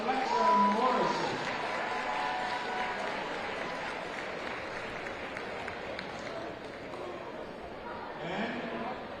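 A crowd in a high school gym at a boys basketball game, Martinsburg at Spring Mills, claps for a senior in a broad, steady wash of applause that slowly eases off, with an announcer's voice briefly over it at the start.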